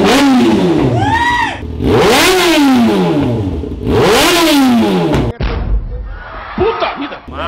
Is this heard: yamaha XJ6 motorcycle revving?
yes